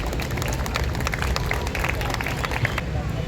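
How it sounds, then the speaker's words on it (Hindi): A crowd gives loud applause for the doctors at the close of a vitiligo awareness skit, dense clapping mixed with crowd babble and low rumble, continuous throughout. "एक जोरदार तालियां हो जाए डॉक्टर्स के लिए।"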